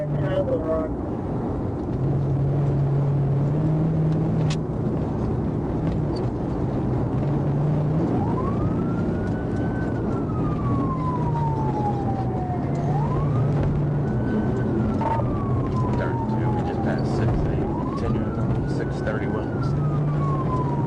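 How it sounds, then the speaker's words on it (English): A police car siren wails in repeated rising and falling sweeps, fairly distant, over steady road rumble and engine noise during a highway chase, heard from a dashcam. "a trooper activated lights and sirens"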